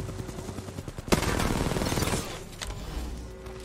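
Rapid gunfire bursts in the Apex Legends battle royale game, starting with a sharp crack and running as a dense volley for about a second before easing into scattered, quieter shots under the game's background noise.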